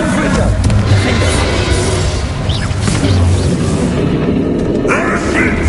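A Confringo blasting spell going off in the video game Hogwarts Legacy, a loud, dense burst of booming impact noise over steady game sound, with voices talking.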